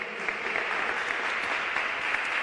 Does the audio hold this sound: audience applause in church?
yes